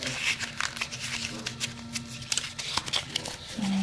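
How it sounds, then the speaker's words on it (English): A paper scrapbook tag crumpled and crushed in the hands, busy crackling and crinkling bursts throughout, with a voice speaking underneath. "you're going to take your tag and you're just going to crumple it up"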